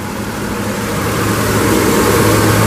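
A 2013 Chevrolet Suburban LT 4WD with a 5.3 liter V8 runs at a steady, loud idle close to the microphone, a low droning engine rumble with no speech.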